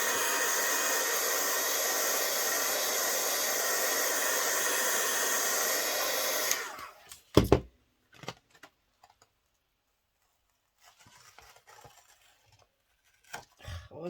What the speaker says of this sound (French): heureusement qu'on a toujours la solution Heat Gun